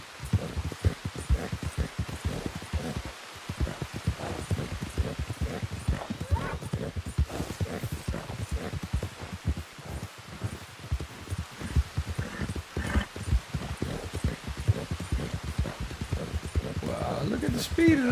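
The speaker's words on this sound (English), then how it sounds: "Look at the speed of this horse." A horse gallops in the video game Red Dead Redemption 2, rapid rhythmic hoofbeats pounding steadily throughout at close range, with a brief whinny near the end and someone talking over it at times.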